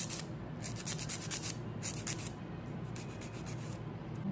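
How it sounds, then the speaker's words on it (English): A nail file rubs back and forth along a fingernail to reshape it, giving soft, close, rhythmic scratchy strokes in short bursts, quiet and with no voices. "I just go back filing along the ridges until I reshape it"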